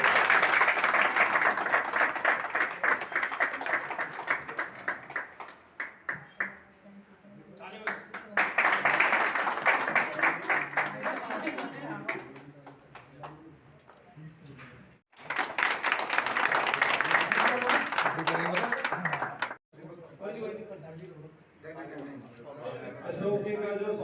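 Applause from a crowd at a Holi celebration held by a sanitation workers' trade union in Mehrauli, Delhi, rising in loud bursts of clapping that stop and restart, with speech over it.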